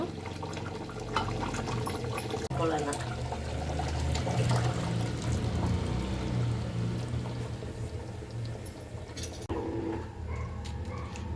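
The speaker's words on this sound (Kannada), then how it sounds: "ನಮಗೆ ಎಷ್ಟು ಬೇಕಷ್ಟು ನೀರು ಹಾಕೋಬೇಕು" Water poured into a pot of simmering chicken sambar, a long steady splashing pour with a gurgling rush that fills most of the stretch before fading, with no voices.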